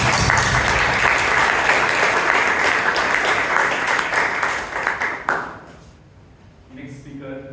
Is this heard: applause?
yes